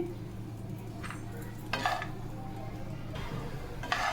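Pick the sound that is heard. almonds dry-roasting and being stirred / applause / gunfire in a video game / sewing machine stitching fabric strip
almonds dry-roasting and being stirred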